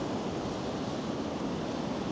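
Ocean waves at St Ives beach in Cornwall, a steady broad roar of distant surf blended with wind buffeting, constant and fairly loud throughout with no voices.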